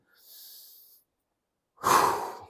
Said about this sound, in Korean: 들이마시고 내쉬고